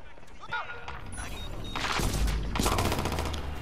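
Uzi fire in Watch Dogs 2 rattles out in rapid bursts alongside a loud excited voice talking over the shooting.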